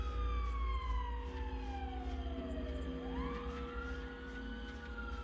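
A siren from the video game Giggleland wails with a falling then rising pitch sweep over a steady low rumble, loud and continuous throughout with no talk.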